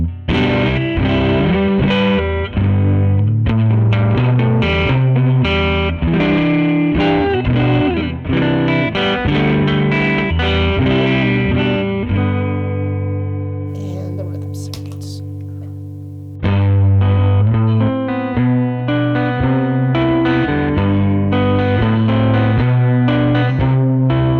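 Distorted electric guitar on the neck pickup and rhythm circuit of a Jazzmaster plays a chunky rhythm part with a warm, growling tone, briefly letting a chord ring out before strumming resumes.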